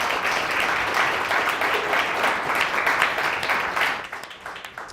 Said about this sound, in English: Let's give all of our presenters a huge round of applause